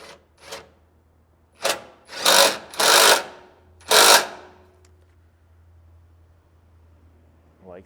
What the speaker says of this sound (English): you're going to have to use one of our self-tapping bolts